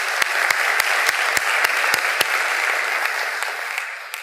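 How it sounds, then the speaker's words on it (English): An indoor audience at a church service claps together in a dense burst, with sharp sharper claps standing out early, then the applause gradually thins and fades. "everybody give them a round of applause."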